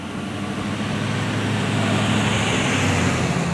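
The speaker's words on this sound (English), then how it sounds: "nice noisy trucks that pollute the sky" Noisy trucks without mufflers drive past on a Houston roadway, making a loud, steady, rumbling traffic roar that swells slightly as they pass, with no talking.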